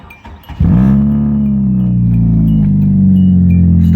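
Hyundai Tiburon with 181,000 miles on it and a worn starter: a short, rough cranking stutter, then the engine catches and settles into a loud, steady idle close by.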